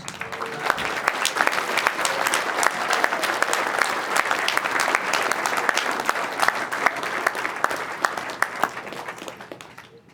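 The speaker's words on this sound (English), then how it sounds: "I think he deserves a big round of applause." A big round of applause at a 2022 mid-year general session, honoring a longtime helper from the Birch Run Moose Lodge: sustained, loud clapping from a large audience for about ten seconds, tapering off at the close.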